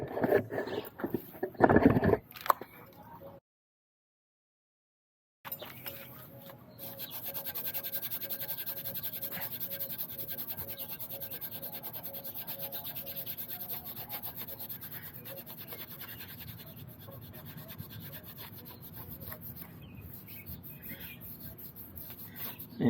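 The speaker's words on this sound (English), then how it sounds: "The instructions say go back and forth instead of circular motion, so that's what I'm doing." Quick Glo chrome cleaner gets rubbed back and forth onto chrome with a microfiber cloth, making soft, steady, close scrubbing strokes. A couple of louder knocks and rustles come first, then a short silence, and the rubbing continues throughout.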